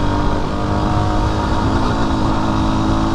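A Yamaha WR250R motorcycle engine held at high revs in fourth gear, a loud, steady, continuous drone with wind rush throughout.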